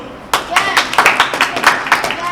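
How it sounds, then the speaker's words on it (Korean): Young baseball players in a hobby class clap for each other after a game, a short burst of sharp, close handclaps in quick uneven rhythm. "서로 대한 박수"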